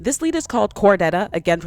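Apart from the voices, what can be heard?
No everyday noises stand out.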